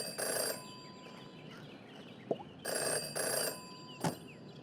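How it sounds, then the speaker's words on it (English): A telephone rings in the video game Jenny LeClue, with two bursts of bright electronic ringing separated by a pause, loud and close, plus a couple of short clicks in between. "never to ignore a ringing phone"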